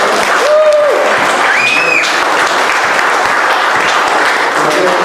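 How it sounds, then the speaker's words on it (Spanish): A church congregation applauds the fathers, steady dense clapping filling the room throughout, with a few faint voices and brief whistle-like tones rising over the crowd. "la iglesia les va a dar un fuerte aplauso a todos los padres"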